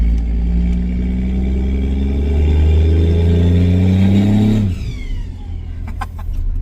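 A loud Cummins diesel truck engine revs and climbs in pitch from inside the cab, then drops abruptly back to a rumbling idle.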